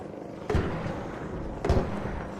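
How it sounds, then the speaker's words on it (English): Two distant explosions in the video game Arc Raiders thud about a second apart, each a dull boom over steady low background rumble. "I'm hearing explosions."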